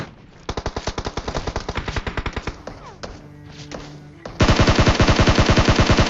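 Rapid bursts of DP machine gun fire ring out in PUBG, a long rhythmic string of shots followed by a louder, denser volley at the end, with a short lull of scattered impacts between them.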